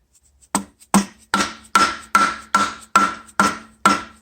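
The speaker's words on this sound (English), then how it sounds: "So then if I get my trusty rubber mallet" Rubber mallet giving gentle taps to a Mazda Renesis rotary engine during a half teardown: eight or nine dull, close knocks at a steady, unhurried pace, each with a short ringing tail, no voices.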